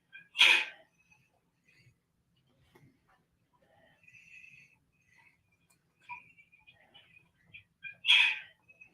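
Two short sneezes come through a phone call during a psychic show, one near the start and one near the end, separated by quiet stretches with faint ticking and scattered small noises.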